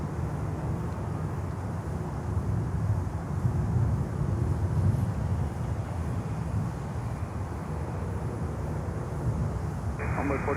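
A large airplane, likely a cargo jet, lands on a runway at Miami International Airport. A broad, distant roar of rushing engine noise stays fairly steady, and a voice may be faintly present underneath.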